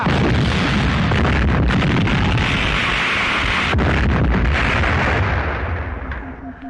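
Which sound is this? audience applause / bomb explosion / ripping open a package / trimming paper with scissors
bomb explosion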